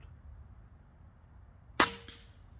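A single sharp crack from an air gun firing an H&N Green pellet at a target, a brief close report standing out against a quiet background hum.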